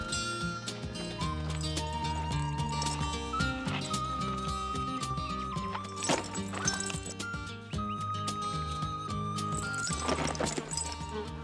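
A horse in a western setting, with hooves clip-clopping at a steady rhythm and whinnying, all laid under a dense, loud orchestral music score.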